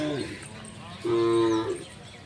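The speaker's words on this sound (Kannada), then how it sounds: "ಹಸುಗಳು" Cattle at a village cattle fair, with one cow letting out a loud, sustained moo lasting under a second amid a busy background of distant animal sounds and crowd murmur.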